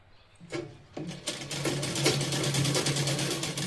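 A sewing machine stitches a blouse seam with a half-inch fold. A couple of short clicks come first, then the motor whirs up into a steady, fast, close-up stitching rattle that keeps going to the end.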